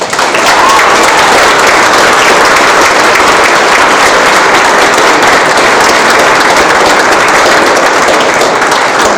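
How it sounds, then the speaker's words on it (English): Loud, dense applause fills a student leadership awards ceremony as an emerging leader award is presented, a steady close wash of many hands clapping without pause for over nine seconds. "Please give a big round of applause for our emerging leader"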